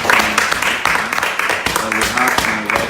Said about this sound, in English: You guys have to clap for my guests